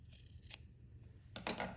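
Scissors trimming fabric for a cross stitch pillow: a few quiet, crisp snips, two isolated cuts followed by a quick double snip, close and soft with no talking.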